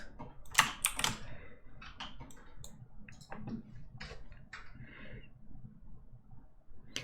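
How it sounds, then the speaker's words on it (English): A computer keyboard typed on at a desk, producing fast irregular clicky keystrokes in short bursts, fairly close and clear over a quiet background with no talking. "You can hear my keyboard"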